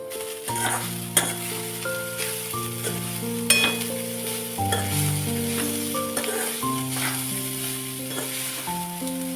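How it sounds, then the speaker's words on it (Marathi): Kanda poha being mixed with coriander and lemon in a hot pan, steady sizzling and intermittent stirring scrapes under continuous background music, with no voices. "कोथिंबीर आणि लिंबू आणि छान असं मिक्स करून घेऊया"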